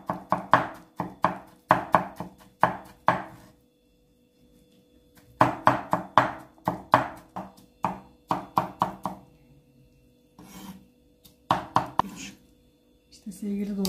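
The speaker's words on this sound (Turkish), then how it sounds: "Bu şekilde doğramaya başladım." A knife chops boiled carrots on a cutting board in quick bursts of sharp taps, pausing between runs, close by with no talk over it.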